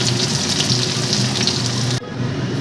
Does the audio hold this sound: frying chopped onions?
yes